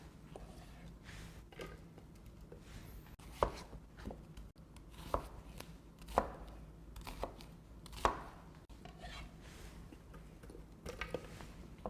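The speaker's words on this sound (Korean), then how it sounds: "얘를 듬성듬성 잘라주세요. 고추를." A knife chops green chili peppers coarsely on a cutting board, giving quiet irregular taps and thuds spread over several seconds against a faint kitchen background.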